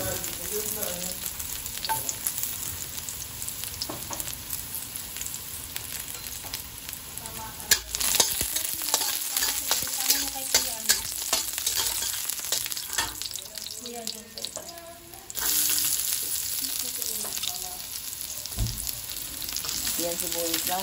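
Garlic sautés in a pan for pancit bihon, a continuous close sizzle and fry broken up by stirring clatters and scrapes, with occasional voices in the background.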